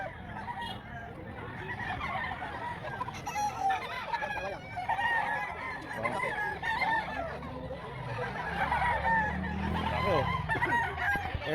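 Many gamecock roosters at a fighting-cock market in Lipa, Batangas crow and cluck over one another, with overlapping calls near and far and a busy crowd murmuring in the background.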